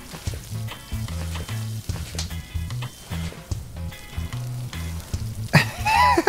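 Food sizzles and fries over a campfire in the Stranded Deep survival game, a steady crackling hiss with a looping tonal background beneath it and a brief rising tone near the end.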